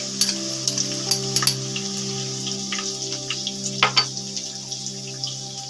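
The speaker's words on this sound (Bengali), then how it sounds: "ওই তেলে দিয়ে দিলাম 2 চামচ রসুন কুচি" Chopped garlic sizzles in hot soybean oil, a steady frying crackle with scattered pops over a low constant hum, close and moderately loud throughout.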